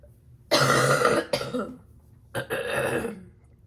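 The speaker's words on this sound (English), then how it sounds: "I was trying to get whatever was in my throat out" Two loud, harsh bouts of throat clearing close by, the first long and forceful, the second after a short pause.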